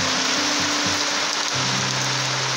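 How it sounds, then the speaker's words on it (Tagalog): Heavy rain pours in a dense, steady hiss on Rapu-Rapu, Philippines, drumming on a surface close by with a faint low hum underneath. "Ngunit bumuhos naman ang napakalakas na ulan."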